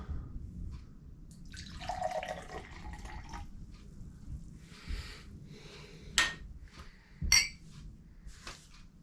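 Water strained through a coffee filter is poured faintly into a container, with a soft splashing run followed by light drips and a few sharp clinks of glass or metal in a quiet room.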